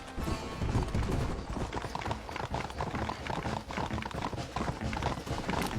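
Galloping hooves from Red Dead Redemption on PS3, a dense, fast clip-clop of horses running, loud and steady throughout, mixed with game ambience and no talk.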